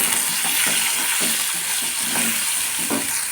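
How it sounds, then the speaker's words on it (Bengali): Small potatoes fry in hot oil with salt and turmeric in a pan, a dense, close, steady sizzling hiss broken by soft rhythmic stirring scrapes, with no talking. "নুন হলুদ দিয়ে ভালো করে ভেজে নেব।"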